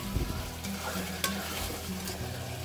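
Mutton pieces fry in oil over a high flame for a mutton haleem, giving a steady close sizzle with occasional stirring scrapes and clinks throughout.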